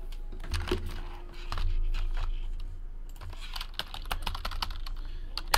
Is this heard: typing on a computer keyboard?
yes